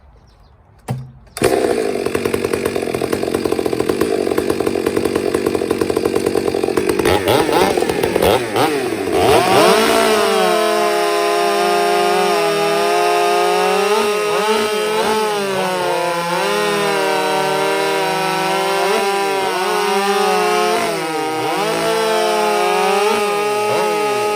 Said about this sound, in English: So I'm gonna try this again with the stock saw.